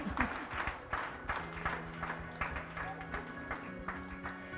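A church congregation applauding during a sermon: steady rhythmic clapping in time, fairly dense and mid-distance, running throughout with a faint sustained tone underneath.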